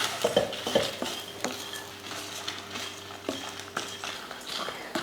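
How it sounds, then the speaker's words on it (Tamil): Fennel, pepper, cloves, cardamom, cinnamon and dried chilies dry-roast in a pan, with rattling spices, repeated spoon scrapes and a faint sizzle close by. No one talks. "இப்போ இதை நல்லா வறுத்துடலாம்"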